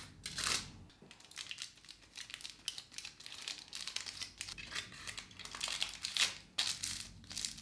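Aluminum foil crinkles and crumples in irregular bursts during home hair bleaching, close and fairly loud, with sharp rustling peaks and short pauses, no talking.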